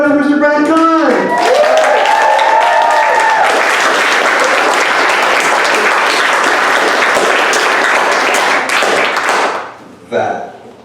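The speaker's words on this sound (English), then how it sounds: "That feels like an excessive amount of applause" Loud, sustained applause and cheering from a comedy club crowd welcoming a stand-up comic, opening with a host's voice and whoops, then a thick wall of clapping that fades out near the end.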